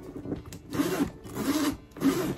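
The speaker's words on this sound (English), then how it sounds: "It has this smooth zipper." A Coach Surrey Carryall handbag zipper pulled in three quick strokes, each a raspy burst with short pauses between, close up with no talking.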